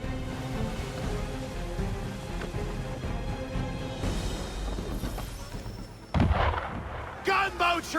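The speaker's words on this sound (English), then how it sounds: "Why is he shooting at us?" Cannon fire from gunboats at sea in Assassin's Creed III: a steady din of distant artillery and ship noise, then sharp nearby blasts and cracks toward the end, with shouted voices mixed in.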